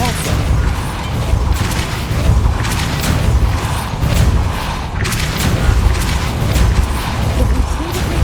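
A Depulso spell blast in Hogwarts Legacy, heard as loud, dense booming bursts that repeat over a thick, rumbling game soundscape, each one hitting with a sharp, broad crack.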